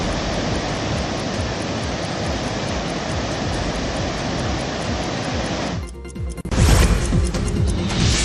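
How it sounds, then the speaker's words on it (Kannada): The flooded Bin river in Uttarakhand rushing after heavy rain, a loud, dense, continuous roar of water that briefly drops and then surges back even louder. "ಬಿನ್ ನದಿಯಲ್ಲಿ ನೀರಿನ ಮಟ್ಟ ಏಕಾಏಕಿ ಏರಿಕೆಯಾಗಿದೆ"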